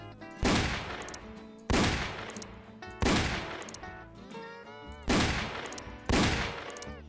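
Five heavy gunshots ring out at roughly one-second intervals while shooting a buffalo in the Roblox game Wild West, each a sharp booming crack with a long decaying reverberant tail.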